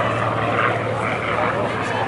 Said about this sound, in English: This is a Spitfire Mark 5B. The B wing actually indicates the level of armament, in fact, before right as you feel that engine spool up. A wonderful Merlin.